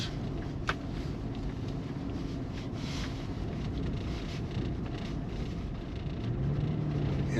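A car drives slowly into a snow-covered parking lot in Summit County, Utah, giving a steady low engine rumble under constant wind buffeting on the microphone, with no speech.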